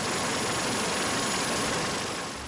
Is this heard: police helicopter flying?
yes